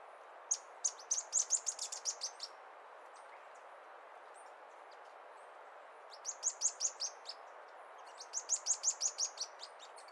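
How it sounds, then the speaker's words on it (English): A tiny xenops, a long-billed bark-probing bird, gives three bursts of rapid high chirps, each a quick trill of about eight notes, clear but moderately faint over a soft steady background hiss. "Xenops is a tiny bird with a long, curved beak, perfect for probing crevices and extracting insects from tree bark."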